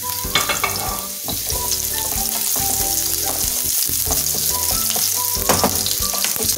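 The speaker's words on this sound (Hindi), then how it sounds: "अब इसमें ऑयल डालें, प्याज डालें," Onions frying in oil in a pan for egg fried rice give a loud, steady sizzle throughout, with clanks and scrapes of a spatula stirring at irregular moments.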